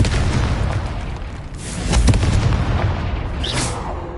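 A spell-cast explosion in Hogwarts Legacy goes off as a loud booming blast that swells and rumbles over about a second, then a sharper burst follows, with no talk.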